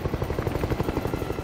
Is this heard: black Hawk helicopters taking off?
yes